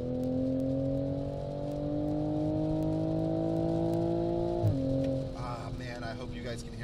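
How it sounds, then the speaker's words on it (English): A race car engine at the 25 Hours of Thunderhill endurance race drones steadily with a rich harmonic exhaust note, rising slightly, then drops abruptly near the end as the revs fall away. "You can hear a beautiful exhaust note."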